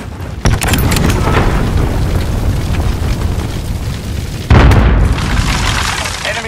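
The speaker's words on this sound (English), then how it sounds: "cruise missile incoming!" In Call of Duty: Modern Warfare, a cruise missile strike lands with a loud booming blast followed by rolling rumble, then a second heavy explosion hits about four seconds later, close and dominant.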